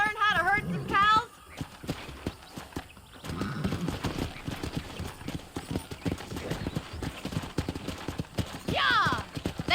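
Horse hooves clip-clop in a steady walking rhythm in the video game Red Dead Redemption during cattle herding, with voices talking over them and a horse whinnying near the end.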